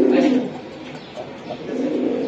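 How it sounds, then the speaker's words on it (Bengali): A Bagha pigeon coos in low, throaty bursts, one at the start and again toward the end, close by with soft background noise and no talk. "এটা একটা বাঘা কবুতর ভাই"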